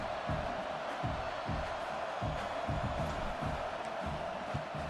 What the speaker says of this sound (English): this is a loud crowd now